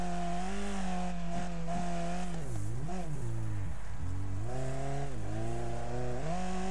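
An engine in the racing game Wreckfest revs hard as the car pulls away from a corner from a dead start, a steady loud drone rising in pitch with gear shifts and a brief dip midway.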